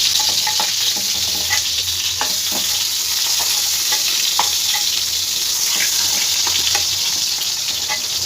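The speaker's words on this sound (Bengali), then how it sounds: "পটলগুলো দেখো আমার ভালো করে ভাজা হয়ে গেছে। এর থেকে বেশি আর ভাজবো না। পটলগুলো এবার আমি সব তুলে নেব।" Pointed gourd (potol) frying in oil for potol posto, a loud continuous sizzle with repeated scraping and clinking of a spatula stirring and lifting pieces from the pan.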